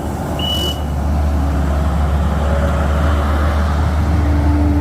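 A skid steer scoops chicken manure on a farm, its diesel engine rumbling loudly and steadily close by, with a brief high beep near the start.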